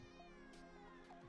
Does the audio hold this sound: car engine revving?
no